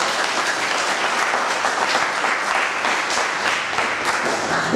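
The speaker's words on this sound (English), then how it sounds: "let us show our appreciation by giving Prof a big applause" A lecture-hall audience at a university general stadium talk applauds a professor, a dense, steady wash of many hands clapping at even loudness throughout, with no voices above it.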